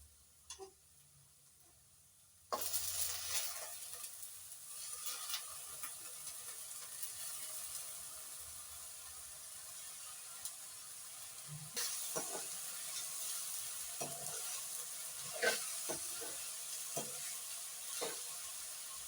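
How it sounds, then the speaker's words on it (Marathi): A vegetable goes into frying onion in a pan, bursting into a sudden loud sizzle that settles into a steady hiss, with a stirring spoon scraping and clattering at intervals, close and without speech. "हा नरम होऊन लालसर होत आलाय. तर आता मी त्याच्यात भाजी टाकते."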